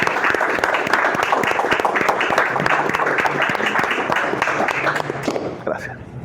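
Loud, steady audience applause at a book presentation in Zulia, Venezuela, dense clapping from a close crowd that continues evenly before tapering at the end, with a voice briefly audible beneath it.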